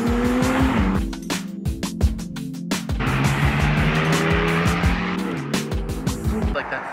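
A McLaren 600LT Spider is driven hard, its engine roaring loud and close as the revs rise and fall, with repeated tire squeals and short skids over a steady loud background.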